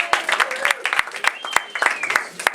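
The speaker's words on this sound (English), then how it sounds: "give them a big round of applause" An improv workshop audience gives a short round of applause for performers taking the stage, with scattered distinct claps and voices calling out over them.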